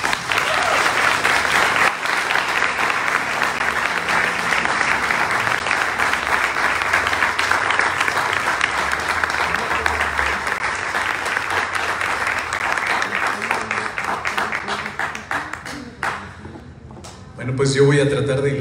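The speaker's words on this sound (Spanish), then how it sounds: "Fuerte aplauso, por favor." Loud, sustained applause fills a room after texts are read aloud at a museum night event. The clapping stays dense for over fifteen seconds, then thins, and a voice and tonal sound come in at the very end.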